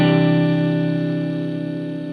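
A Leo Jaymz pre-finished kit electric guitar played through a clean amp channel, one sustained chord ringing out loud and close, decaying slowly with a slight wavering shimmer.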